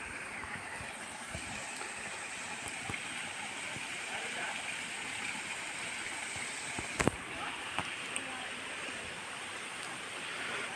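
Steady rushing stream water in the Nallamala forest near Ahobilam, a constant broadband flow with no let-up and a few faint clicks and knocks above it.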